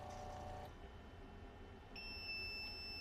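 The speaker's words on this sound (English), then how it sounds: "you're going to hear a beep shortly, and beep will indicate the end of the wash for us" A faint electronic beep from a slide-washing device for cell counter slides marks the end of the wash cycle, a thin steady tone starting partway through over quiet room hum.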